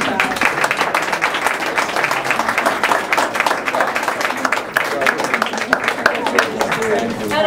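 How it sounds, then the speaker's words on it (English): Sustained applause from the audience at a 2014 graduate awards ceremony, a dense, steady patter of many hands clapping close and loud throughout, with voices mixed in. "We'll clap, and that will mean sunny skies tomorrow,"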